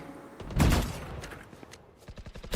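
Rifle spam in a Valorant esports match, Gentle Mates against Twisted Minds, sounds as a loud burst of overlapping shots followed by scattered fainter pops and another sharp volley at the end.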